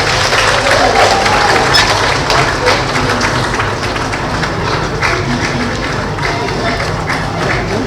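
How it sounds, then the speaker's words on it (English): Applause and crowd noise fill a hall at a ministerial press briefing on power, honoring the Minister of Power; the dense clapping holds steady for about eight seconds with some murmuring mixed in. "I will make the applause a bit louder for the Honorable Minister of Power"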